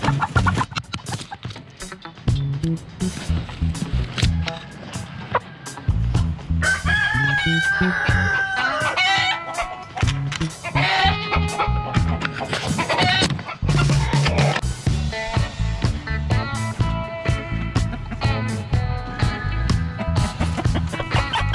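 Chickens being moved cluck and squawk close by, and a rooster crows loudly partway through, amid handling noise and brief bursts of rustling.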